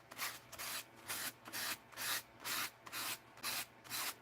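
Sandpaper rasps back and forth across a mixed-media card in about nine even, rhythmic strokes, close but quiet, with no voices.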